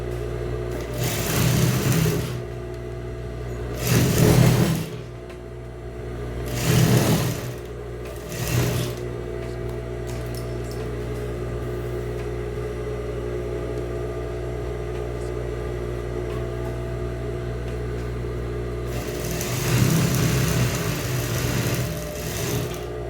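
Sewing machine stitching fabric for a child's dress, running in four short bursts of a few seconds each, then a longer run near the end, with a steady low hum in the pauses and no talk.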